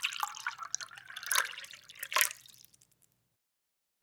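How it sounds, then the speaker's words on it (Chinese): Clean water is poured over salted, sliced cucumbers in a bowl, giving a close run of wet splashing and dripping that lasts about three seconds and then stops, with no talk. "接下来我们再往里面倒入清水"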